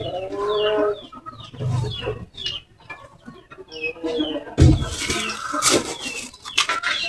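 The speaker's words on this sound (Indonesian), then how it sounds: "Namanya ayam kampus, kepanjangannya ayam kampung super." Super village chickens (ayam kampung super) on a farm cluck and squawk repeatedly at close range, with several birds calling in bursts and a louder flurry of noise midway.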